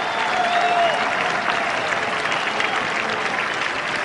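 A large cricket crowd in Australia applauds a fine shot during a tri-series match against Pakistan, steady dense clapping and cheering that holds for several seconds.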